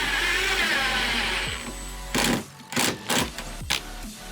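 A power drill drives screws into drywall corner bead, starting with a long loud whine that ends in a sudden stop. Several short buzzing bursts follow with brief pauses between them, over a low steady hum.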